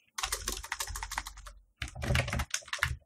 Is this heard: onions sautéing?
no